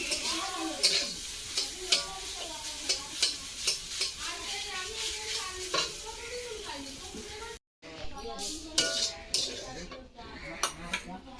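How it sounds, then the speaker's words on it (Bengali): Jute greens fry in a hot pan while a utensil scrapes and clanks against the metal in repeated strokes, with a voice speaking intermittently. "ওইটা একটু দেরি হবে ভাজা ভাজা হচ্ছে"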